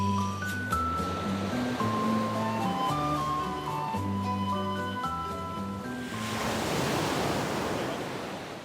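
Surf breaks on a sunny beach at Les Sables d'Olonne. Tonal music plays over a soft wash for the first six seconds, then the crash and hiss of waves swell loud and broad as the music drops away.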